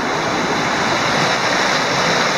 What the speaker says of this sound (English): And this is the weir.